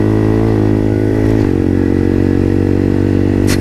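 A motorcycle engine that has been standing in the sun runs loud and steady close by, a rough idle with a brief rev change around the middle and no voices.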